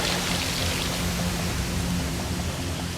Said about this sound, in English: Now he's going to tackle the icy water wall.